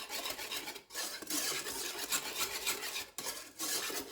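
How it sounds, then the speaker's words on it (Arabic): Pastry cream being whisked together with egg, milk and lemon zest in a bowl, a steady close scraping and stirring rasp with two brief pauses, no talking. "غادي نخلطوا هاد العناصر مزيان، الكريم باتيسير مع البيضه مع 2 كيسان ديال الحليب حتى تينسجموا مزيان مع قشور الحامض"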